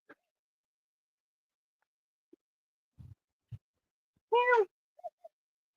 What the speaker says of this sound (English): it's a kitten, honey, and he's meowing